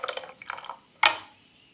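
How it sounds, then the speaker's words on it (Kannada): Water is poured into a masala sambar of mixed beans, peas and avarekalu: a short splashy pour lands after a few light clinks and drips, close and fairly soft. "ನೀರು ಹಾಕ್ಕೊಳ್ತಾ ಇದ್ದೀನಿ ಇನ್ನೊಂದು ಸ್ವಲ್ಪ."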